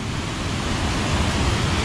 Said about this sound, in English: that is a spectacular sight of the waterfall in force